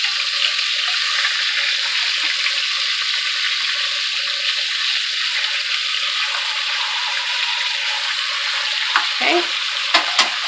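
Chicken leg quarters fry in a pan on the stove with a steady, bright sizzle, a few utensil clinks near the end and one brief spoken word.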